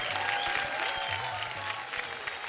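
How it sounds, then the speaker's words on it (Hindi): Audience applause in a TV dance show studio, a dense steady clapping that fills the whole stretch at moderate level, with a low hum of voices beneath. "जोरदार ताली।"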